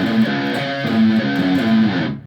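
Distorted electric guitar plays a riff, a thick, sustained chugging phrase that is loud and close. It rings out alone for about two seconds with no voice, then stops abruptly.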